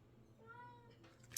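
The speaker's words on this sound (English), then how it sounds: "The kitty wants to go outside." An indoor house cat gives one drawn-out meow, wanting to go outside, faint and slightly distant, followed by a brief rustle.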